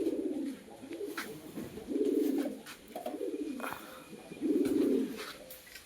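Pigeons coo in several low, throaty bursts at feeding time, each rolling call lasting under a second and repeating at a steady rhythm against a soft background of rustling and faint chirps.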